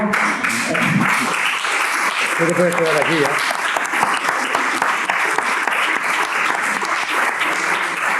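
Audience at a book presentation breaking into sustained applause, loud and continuous, with a brief spoken remark near the start.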